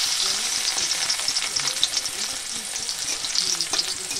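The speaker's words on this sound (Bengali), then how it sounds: "এই রসুন ফোড়ন দেব।" Crushed garlic frying in hot mustard oil in a wok, a steady loud sizzle with bubbling crackle and occasional stirring clinks throughout, close up with no talk.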